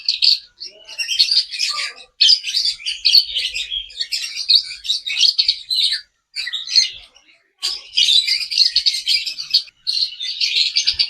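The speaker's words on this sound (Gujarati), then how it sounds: "લવ બર્ડ." Lovebirds in a zoo aviary chirp and squawk in dense, rapid bursts with a few short pauses, close and lively throughout.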